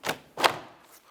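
A 2004-2009 Dodge Durango door panel is pulled off, giving two close, sharp clunks as its plastic clips pop free, the second louder, followed by a fading rattle.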